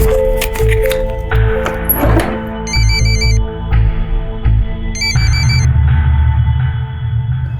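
A loud phone ringtone plays in bursts of high electronic chirps for an incoming call from the mother, over background music and room sound.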